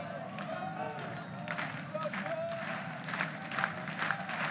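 The Oklahoma home crowd at a college baseball regional game against Duke in Norman claps and cheers with a steady roar, rising slightly toward the end, while voices talk over it.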